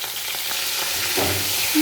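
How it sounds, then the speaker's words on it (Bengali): Fish heads frying in mustard oil in a wok give a steady, close, broadband sizzle with a brief louder surge of spattering near the end, and no voices. "মাছের মাথা প্রথমে ভেজে নেব, তাই কড়াইতে দিয়ে দিলাম"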